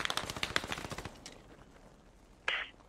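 Rapid machine gun bursts in the tactical shooter Post Scriptum, a fast rattling string of shots for about a second, then a quieter single crack near the end.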